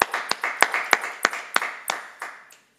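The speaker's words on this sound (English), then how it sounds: "we want to give you a round of applause" Round of applause for medical school graduates given by a few people clapping in sharp, evenly spaced claps that slow and fade to silence, close and distinct.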